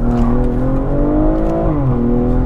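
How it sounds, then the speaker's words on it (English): A BMW M340 accelerates hard in sport mode on the Autobahn, its engine droning loud and steady with rising pitch and a brief dip as the automatic gearbox shifts up. "Gearbox, let it shift by itself, because it shifts at like the perfect moment every time."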